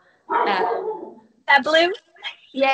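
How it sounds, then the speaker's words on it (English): A dog barks and whimpers indoors at home, close by, in a few short bursts that overlap a person talking during a remote interview. "That's my dog saying hello."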